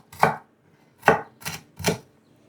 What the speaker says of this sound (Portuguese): 1 centímetro de gengibre. E aqui também cortar desse jeito